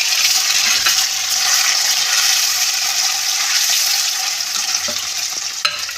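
About 250 grams of paneer frying in hot oil for chana paneer masala: a loud, steady, close sizzle running throughout, with faint occasional clinks of a utensil and stirring.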